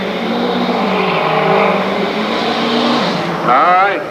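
Two Ford diesel trucks in the 8,500 lb class roar together at a pulling competition, loud and sustained, with a rising howl near the end.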